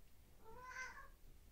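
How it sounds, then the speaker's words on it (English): A pet cat meows indoors, a single drawn-out call rising and falling at moderate distance, fairly quiet over low room noise with no talk. "oh, there's my cat."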